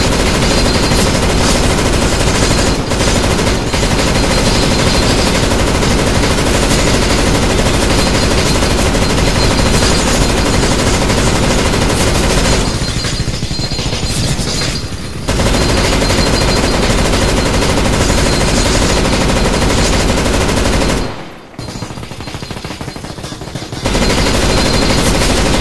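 Sustained automatic gunfire in a CS:GO zombie survival mod, rapid bursts hammering almost without pause and loud throughout, with two brief drops where the shooting thins before resuming.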